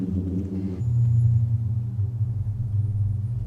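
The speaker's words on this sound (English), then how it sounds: "Once I've started the sand moving with my quad bike, it all seems to feed itself." Booming sand dune avalanche set off by a quad bike: a deep, sustained low hum that swells in after a moment and drones on steadily, loud and without speech.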